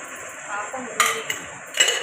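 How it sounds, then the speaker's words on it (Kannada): Semolina roasted with ghee in a pan, a faint steady hiss interrupted by a few sharp metallic scrapes and clinks from a spoon stirring against the pan, close and without talk. "ನಾವು ರವೆನ ಹುರ್ಕೊತಾ ಇದ್ದೀವಿ"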